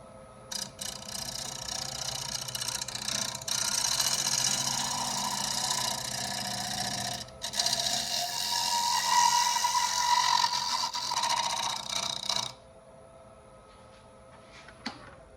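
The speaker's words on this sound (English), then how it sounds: "So we're just gonna do a light scrape at fairly high speed with our mask and face shield on." A shear scraper held with a light touch against wood spinning on a lathe at about 900 RPM, giving a steady, continuous hiss and rasp for around twelve seconds before it stops abruptly, with no talk.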